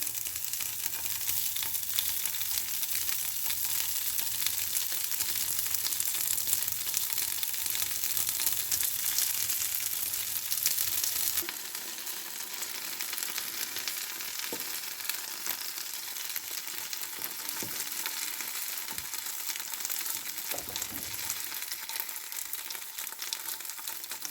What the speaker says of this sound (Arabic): غادي ندوز نديرهم نخلوهم يتحمروا لينا ومن بعد نقلبهم